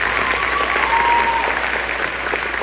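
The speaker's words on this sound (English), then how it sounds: "Give a round of applause." A school pops orchestra concert audience claps in sustained, dense applause, loud and steady throughout without pause.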